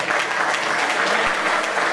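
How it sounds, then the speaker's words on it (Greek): Audience applause at a Kos radio-taxi union music night and New Year pie-cutting event, a steady dense clapping from a crowd filling the room at even loudness throughout, with no pause. "Ένα χειροκρότημα"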